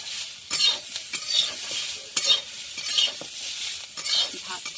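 Food frying in a small amount of oil is stirred in a pan, with a soft sizzle under a series of scraping, rasping stirring strokes that come in bursts, close by and without talk.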